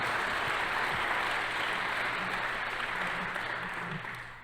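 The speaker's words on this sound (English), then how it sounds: "Let's give that film another round of applause" An audience at a launch event gives a film a round of applause, a thick, sustained clapping that holds steady before fading slightly at the close.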